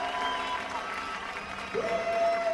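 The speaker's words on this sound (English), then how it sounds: "there'll be a massive cheer for them" Crowd at the 2003 French MotoGP podium celebration cheers and applauds steadily throughout, a broad wash of clapping and voices that swells louder near the end, with faint tonal whistles above it.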